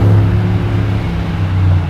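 An Audi R8 engine rumbles at a steady, loud idle close by, a deep continuous drone with no talking.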